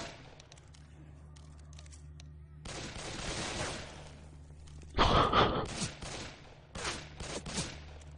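Gunfire in a Left 4 Dead match rattles in rapid bursts, with a loud, close volley in the middle and further bursts after, while someone speaks over parts of it.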